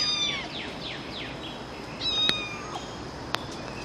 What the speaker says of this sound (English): I can hear a kitten